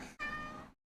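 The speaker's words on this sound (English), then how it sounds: "hi cat. No, we're not doing kitty interruptions today." A domestic cat gives a single short, clear meow, close and fairly quiet, on its own.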